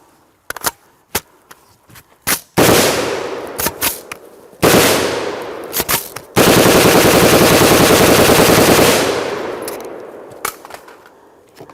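An M16 rifle fires several loud bursts of automatic fire, each a rapid string of sharp cracks. Single shots and short pauses come between them, and the last burst runs longest.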